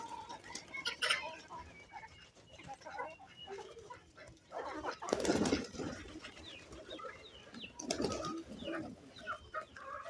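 Pigeons at a home farm flock in when called, with soft intermittent coos and two bursts of wing flapping; a person's calling voice sounds faintly in the background amid farmyard noise.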